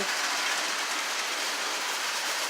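Model trains run on a layout in a home workshop, making a steady, dense rushing hiss of wheels on track that stays even and close throughout, with no talking.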